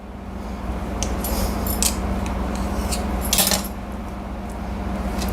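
A knife slices through tightly rolled dough for a crispy tea-time snack, making several soft, crisp cutting scrapes and taps against a steady kitchen background hum.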